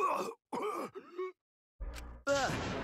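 A Danganronpa V3 character coughs and groans in pain in short strained bursts, ending in a harsher rasping cough, close and fairly quiet.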